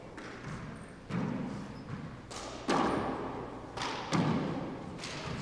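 A handball strikes the walls and floor during a men's 4-wall handball final, producing a series of sharp thuds and slaps at irregular intervals in a reverberant indoor court.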